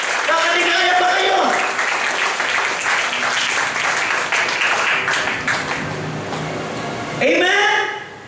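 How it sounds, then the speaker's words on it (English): A church congregation claps in praise, dense sustained applause filling the room, with voices calling out over it and a fresh burst of cheering near the end. "Shall we give the best clap of praise for Jesus?"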